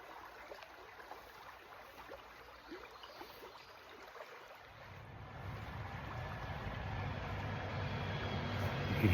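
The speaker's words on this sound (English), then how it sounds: "You can hear the cars." Cars pass on a road not far from a small creek fishing spot, a steady wash of distant traffic hiss that grows louder toward the end as a vehicle approaches.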